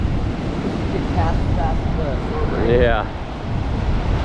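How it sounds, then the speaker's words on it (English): Strong wind roaring across a beach, a loud, steady rush buffeting the microphone throughout, with a brief voice speaking over it near the middle. "You can see it is crazy and windy out here."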